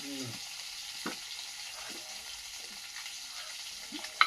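Sundarban koi fish rubbed with salt and turmeric fry in oil outdoors, giving a steady low sizzle with a few soft clinks and stirring sounds and a brief sharp knock near the end.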